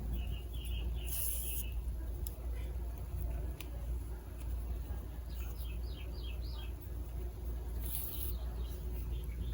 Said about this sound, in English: So peaceful to hear the bird.